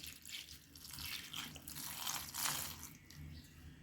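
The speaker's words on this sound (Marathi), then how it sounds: "आपण ही 2 ते 3 वेळेस छान स्वच्छ धुवून घेणार आहोत." Dill greens are washed in water with quiet splashes and drips close by, a soft, uneven trickle lasting a few seconds without speech.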